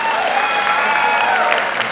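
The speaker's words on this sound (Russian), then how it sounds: "Ваши аплодисменты, друзья" Loud, dense audience applause at a school comedy league (KVN) event, continuous close clapping filling the hall with a faint tone and voices mixed underneath.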